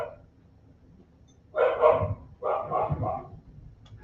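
Two short bursts of dog barking, each a quick cluster of barks, fairly close and loud against a quiet, low rumbling background.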